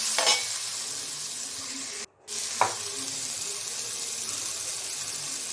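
Onions and tomatoes cooking down in a pan for fish curry, a soft steady sizzle with a couple of brief stirring scrapes and a short gap, no talk.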